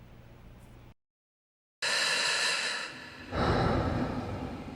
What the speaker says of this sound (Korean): 새까만 화면과 함께 들려오는 힘겨운 숨소리